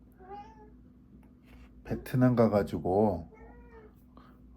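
A pet cat meows a few times, near and clear, its short calls set around a man's Korean speech.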